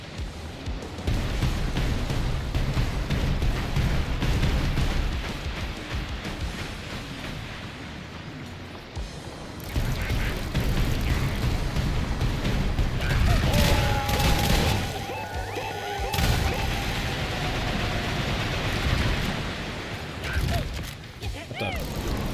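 Chaotic gunfire and explosion bursts from the video game Sulfur, dense and loud throughout with crashes and mechanical clatter, mixed with a player talking over the action.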